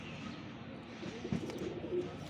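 Kitel breed pigeon hen giving soft, low cooing nearby, faint and brief, with a quiet murmur of background sound.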